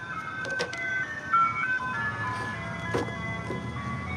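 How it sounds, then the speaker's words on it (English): An ice cream truck jingle plays at a distance, a thin tinkling melody drifting over low traffic rumble, steady and moderately faint. "now we have that ice cream truck"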